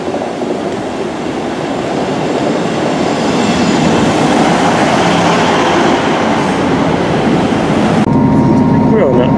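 A British Rail class 158 diesel multiple unit, number 158 950, runs at a station in Bath, its steady rumble and wheel noise loud and continuous throughout with no one talking over it.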